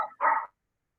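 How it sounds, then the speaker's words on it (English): A dog barks in the background of an online surgery webinar, with one short clipped bark followed by a fuller bark, moderately loud and alone before silence. "There's a dog barking in the background"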